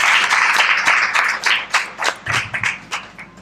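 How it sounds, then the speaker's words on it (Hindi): Clapping from a webinar audience for a diabetes doctor, a ragged burst of hand claps that starts dense and thins into separate, uneven claps toward the end, moderately loud and close. "सर के लिए एक बार और जोरदार तालियां।"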